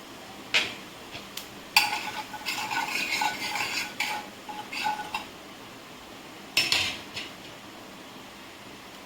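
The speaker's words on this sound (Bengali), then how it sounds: "এবারে আমি তেলে আমি এই যে কালো জিরে আর জিরেটা ফোড়ন দিলাম" Black cumin, cumin and asafoetida temper in hot oil for a papad curry, giving a brief crackling sizzle between clinks and scrapes of a spoon against the pot, with no voices.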